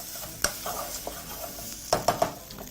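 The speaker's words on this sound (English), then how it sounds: "Proceed again to mix your ingredients through." A spoon scraping and stirring curry paste, tomato paste and onions in a frying pan, with soft sizzling underneath and a few sharp metallic clinks and scrapes toward the end.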